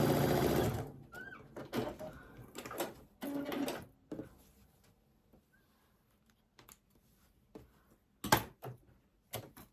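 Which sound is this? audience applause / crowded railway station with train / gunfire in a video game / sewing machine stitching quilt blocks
sewing machine stitching quilt blocks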